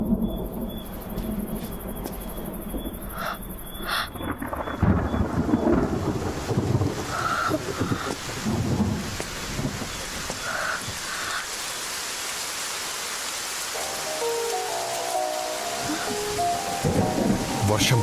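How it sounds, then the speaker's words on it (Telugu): Rain falling steadily with deep rolls of thunder, including a loud burst near the start, while insects chirp faintly in the background. "వర్షం పడింది"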